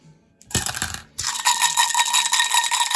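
Several tech dice for a board game clatter into a dice randomizer in two rattling bursts, one short and one sustained, heard up close.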